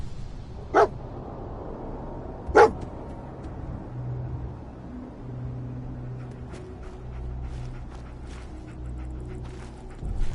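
A dog in the video game Fallout 4 gives two sharp, separate barks, close and loud, over a low hum of ambient game sound and music.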